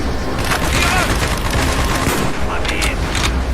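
Loud, dense gunfire in the video game Call of Duty Black Ops, set in an Arctic Circle mission, with rapid automatic bursts and booms layered together alongside shouted voices.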